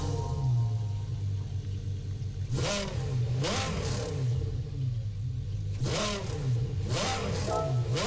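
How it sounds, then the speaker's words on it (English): The 2019 Audi R8 LMS Evo race car in Gran Turismo 7 sits at a deep, steady idle with several sharp throttle blips rising above it, loud and close with no talking. "click on it, listen to the startup sound"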